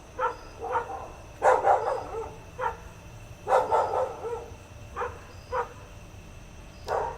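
Several dogs bark in short bursts that answer each other, sharp yips and woofs trading back and forth at moderate distance over a faint steady hum.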